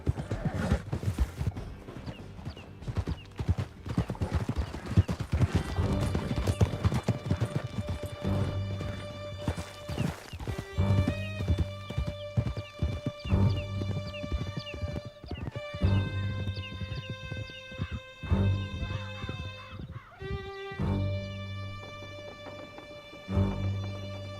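Horses galloping in Red Dead Redemption 2, with steady clip-clop hoofbeats and occasional whinnies running throughout, set against a layered game music score.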